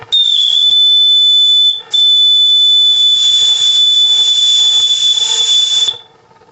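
A loud, steady live-steam bell whistle blows a sustained high tone, pauses briefly, then sounds again for several seconds before cutting off.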